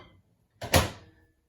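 A microwave door swings shut with one quick latch clack and a short thud, close and moderately loud in a quiet kitchen.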